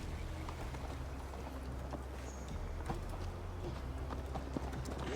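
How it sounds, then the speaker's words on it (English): Horse hooves clip-clop steadily at a ride in the video game Assassin's Creed Valhalla, a continuous rhythmic patter heard up close over a low droning game ambience. "Mount up, Eivor. It's a long ride to Tamworth."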